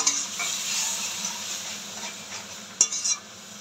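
Crushed ingredients being sautéed in a pan, a soft steady sizzle and hiss with a few sharp scrapes and clinks near the end, close and fairly quiet.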